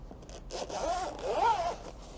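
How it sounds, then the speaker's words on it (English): A smooth zipper slides along an EVA carrying case in two quick, soft pulls, close and quiet with a faint whirring rasp. "the zipper is very smooth"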